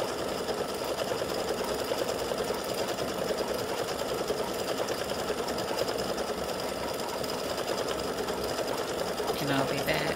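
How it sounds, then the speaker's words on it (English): An embroidery machine runs steadily, stitching gold thread to form the woven look of a gnome's braid, its rapid needle chatter loud and continuous throughout with a slight change in texture near the end. "this gold will come back and stitch the weaving look of the braid"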